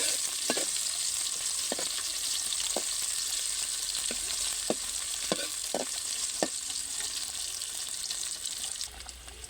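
Chopped onion and green chilli fry in a pot for a Bengali egg dish, a steady hiss of oil throughout with a sharp clink of a stirring spoon every second or so.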